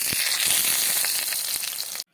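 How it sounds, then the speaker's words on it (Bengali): Battered chilli chicken pieces fry in hot oil in a wok with a loud, continuous crackling sizzle, close up and unbroken until it stops abruptly at the end. "এদিকে আমি কড়াই তেল দিয়ে দিয়েছি, দিয়ে এগুলোকে আমি একটা একটা করে ভেজে নেব।"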